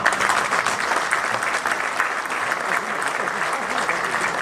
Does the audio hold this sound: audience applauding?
yes